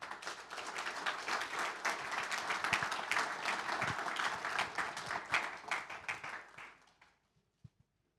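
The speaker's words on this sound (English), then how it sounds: "Please give a big round of applause for Mr. Debda Sen." A large audience at the inauguration of TCG's Sports Intelligence Hub in Munich gives sustained, dense applause for about seven seconds, which then fades out to a couple of isolated claps.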